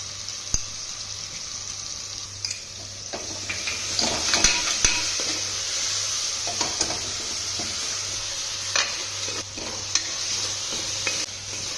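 Ginger garlic paste frying in a pan with tomatoes for methi biryani, a steady sizzle broken by scattered clinks and scrapes of a spoon against the pan, near and without speech.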